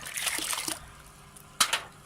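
Soapy water is pushed out of a pot after spraying from a plain spray bottle, heard as a close, soft wet trickle and slosh for under a second, then two brief splashy drips.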